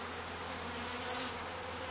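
Steady, dense buzzing of many bees close by, continuous and fairly loud with no talking.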